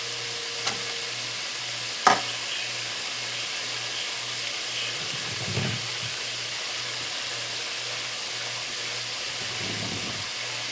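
Shrimp deep-frying Essex-style on a new stove, a steady close sizzle of bubbling oil with a low hum and a couple of sharp clicks, without speech.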